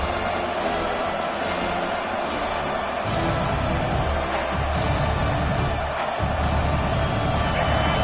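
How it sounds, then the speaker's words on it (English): Stadium crowd noise from a college football video game against Alabama, a steady loud roar with swelling cheers and whoops that rise in waves throughout. "This crowd knows they have to bring it in big moments"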